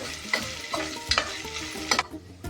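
Ginger and garlic fry for a bottle gourd biryani, a close sizzle broken by several quick scraping stirs of a spoon against the pan, with no talking.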